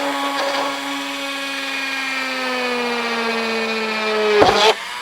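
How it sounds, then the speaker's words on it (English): A small Dremel rotary tool, set to a lowered speed, whines steadily at high pitch while drilling a hole, its tone sagging slightly as it bites in, then a brief harsh grinding burst near the end. "We're going to crank down the speed a little bit on the Dremel"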